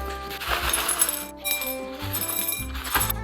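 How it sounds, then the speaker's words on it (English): Buttery corn kernels placed onto a china plate, giving a few close clinks and taps of utensil on porcelain over about three seconds. "place the kernels onto your finest china"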